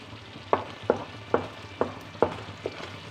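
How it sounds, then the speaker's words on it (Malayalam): Butter cooking down into clarified ghee in a pot, a soft simmering hiss broken by six evenly spaced bubbling pops, close and fairly quiet with no talking. "അപ്പോൾ അതിൻ്റെയൊക്കെ ശബ്ദങ്ങൾ ഉണ്ടാവും നെയ്യ് തെളിഞ്ഞ് വരാൻ തുടങ്ങിയേ"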